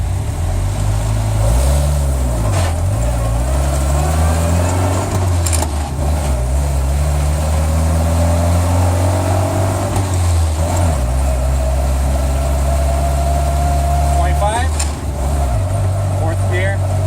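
A 1961 Land Rover Series II engine drives in first gear, a loud, steady low drone with the pitch rising and falling as it revs and shifts, heard from inside the vehicle.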